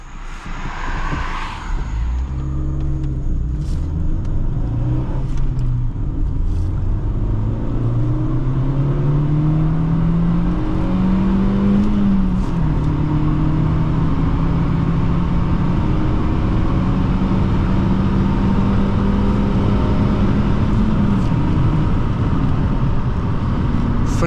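A 2008 Honda Fit engine revs and accelerates steadily, its pitch climbing through the gears under a constant loud drone, with no talking.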